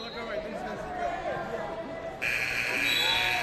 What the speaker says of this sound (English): And there's our buzzer.